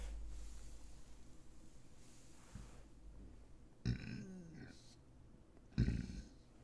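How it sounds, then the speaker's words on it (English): A person's burp forced up from a stuck feeling in the throat, a short guttural belch near 3.9 seconds and a louder one near 5.8 seconds, both close, over a low background hum. "Oh, I got a burp stuck in my throat."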